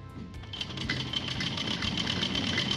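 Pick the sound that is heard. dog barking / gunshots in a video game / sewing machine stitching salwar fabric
sewing machine stitching salwar fabric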